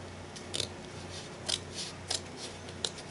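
Scissors snip several times as something is cut off while crafting, four or five quiet, crisp crunching cuts spaced about half a second apart over a soft steady hum.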